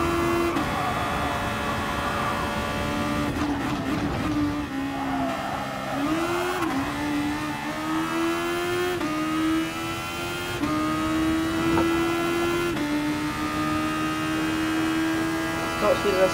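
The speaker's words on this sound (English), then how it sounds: "This car going about 187 miles an hour" A Super Formula race car at Fuji in Gran Turismo Sport, its engine whining at high revs with a continuous tone that rises and dips through gear changes over sustained speed.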